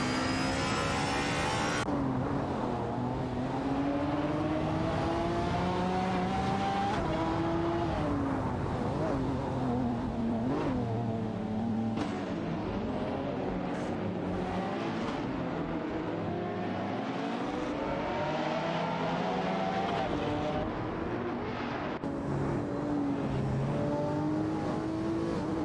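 Race cars in an AI racing video game drive through a series of corners, their engines droning and shifting pitch steadily at close range for the whole stretch, with no pauses.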